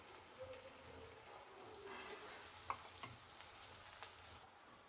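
Finely chopped onion and washed bitter gourd peels fry in a pan with a continuous soft sizzle and a few light utensil taps as they are stirred.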